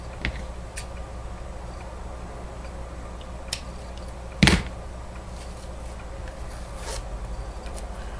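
Plastic covering is torn off in one short, sharp rip amid quiet room noise.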